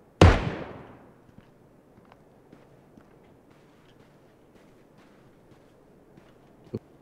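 A single gunshot in the video game PUBG, fired at random into darkness, cracks loudly at the start and decays quickly, followed by faint ambient noise and one sharper knock near the end.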